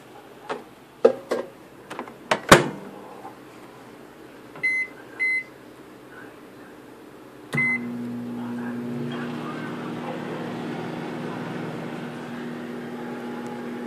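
A microwave oven melting chocolate in a bowl: several sharp clicks and keypad beeps at first, then a thump as it starts and a steady low hum that runs to the end, heard close and alone.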